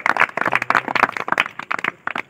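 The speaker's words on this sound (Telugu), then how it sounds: "చప్పట్లు కూడా దేవుని నామాన్ని కనపరుస్తుంది." A church congregation claps during a sermon, producing dense, quick, overlapping hand claps that continue steadily for a couple of seconds.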